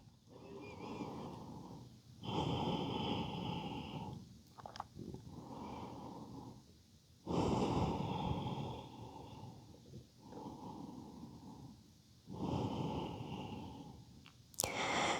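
Slow, deep breathing held in a yoga forward fold, with long airy inhales and exhales alternating at an unhurried pace over several rounds, close and fairly quiet, with no talk.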